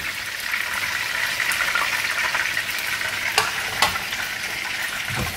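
Chicken pieces deep fry in hot oil for a sweet and sour dish, a loud, dense sizzle holding steady throughout, with a couple of sharp crackles and no voices.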